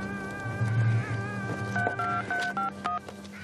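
Telephone number dialed as a sequence of steady DTMF touch-tone beeps of varying pitch, each short and distinct, heard over a low background hum in a staged comedic scene.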